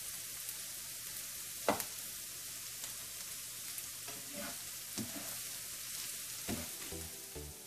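Onions and bell pepper frying in a pan, a steady soft sizzle with occasional stirring clatters and scrapes, close and moderately quiet, no voices.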